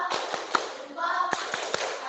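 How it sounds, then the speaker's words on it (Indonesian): Classroom of students doing a thumb clap (tepuk jempol), a scatter of soft, quick taps and thuds in short bursts under a teacher's nearby voice. "Sudah kasih dulu tepuk jempol lah."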